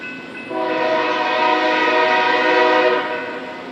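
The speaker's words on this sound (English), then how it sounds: "The train is coming." Norfolk Southern train at a road crossing near a vintage signal, its horn sounding a long, loud chord of steady tones that swells after half a second and holds for about two and a half seconds before fading.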